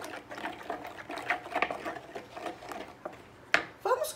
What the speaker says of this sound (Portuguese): Vou dar uma mexidinha aqui, só pro ovo desmanchar.